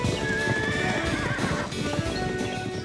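A cartoon horse neighs loudly with a stylized whinny while hooves clip-clop steadily beneath it, a dense, continuous sound-effect bed with no talking.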